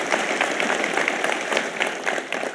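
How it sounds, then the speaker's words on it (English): Keynote audience at a Dreamforce Data Cloud session applauds in a dense, steady wash of many hands clapping, sustained at even loudness throughout with no talk over it. "Everybody, please give a big round of applause for Christian."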